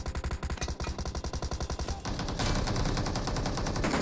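Rapid automatic gunfire in the mobile battle royale game PUBG Mobile, a dense stream of loud bursts that starts as distinct pulsing shots and merges into a continuous roar of fire, with no talking.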